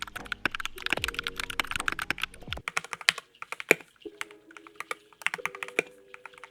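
Mechanical keyboard typing heard twice, first unmodded and then with modding: brisk bursts of sharp key clicks and clacks with deeper thocks early on, turning quieter and softer later, close and alone.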